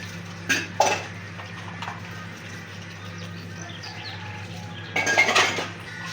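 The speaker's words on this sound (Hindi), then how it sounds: "इधर बर्तन धोए जा रहे हैं" Hand washing of dishes, pots and cutlery in a home kitchen: scattered metallic clinks and scrapes, with a longer clattering burst near the end over a steady low hum.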